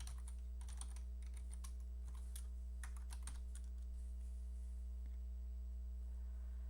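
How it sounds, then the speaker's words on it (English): Typing on a computer keyboard comes in quick irregular clusters of clicks over a loud steady mains hum. The keystrokes thin out to a few isolated taps by the end. "So we type that."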